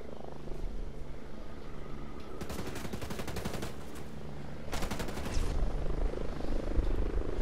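A helicopter in the video game Ghost Recon Breakpoint, its rotor drone running steadily while two bursts of rapid gunfire crackle over it, with no talking.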